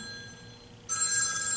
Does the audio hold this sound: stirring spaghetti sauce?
no